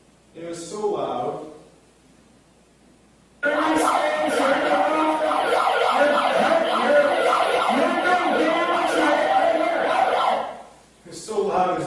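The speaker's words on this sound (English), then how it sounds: "7 minutes of that siren going off." A siren blasts through a bullhorn on a street sidewalk, harsh and distorted, holding steady for about seven seconds after a brief earlier burst, with another burst starting at the end.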